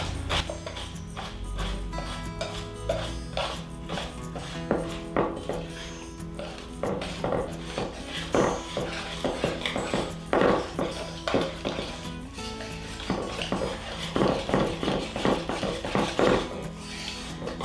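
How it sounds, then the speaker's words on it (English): Sourdough cornbread batter being stirred in a bowl, steady rhythmic scraping and knocking of a utensil against the sides, close and fairly loud, continuing without pause. "I'm mixing this even though I don't have all the ingredients in here"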